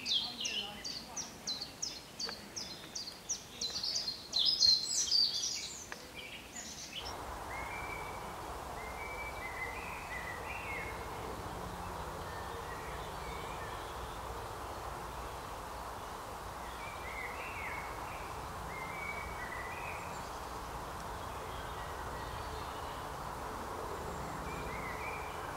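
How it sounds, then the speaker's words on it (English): Birds sing in Maulden Wood in May, bright chirps and whistles close at first, then fainter calls scattered over a steady woodland hush as a voice talks quietly over the later stretch. "I decided to just take a moment to enjoy the birdsong"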